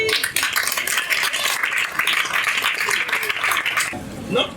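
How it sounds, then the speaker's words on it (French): An audience claps at a Christmas party for disabled children, dense steady clapping that carries on for several seconds before thinning out near the end. "On l'applaudit."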